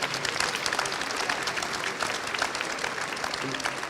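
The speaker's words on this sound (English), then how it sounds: "give our panelists a great round of applause for being here this morning" A morning conference audience gives the panelists a warm round of applause, a full, continuous clatter of many hands with light crowd noise mixed in, steady throughout.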